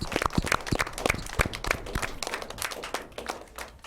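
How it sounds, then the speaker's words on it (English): Scattered clapping from a small group of parents at a youth girls' soccer team gathering, loose and uneven rather than a full roar, with sharp individual claps close by. "let's give the parents a round of applause"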